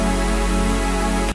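Synthesizer tone summed to mono, a steady sustained chord with rich harmonics held loud and even, then cut off abruptly near the end.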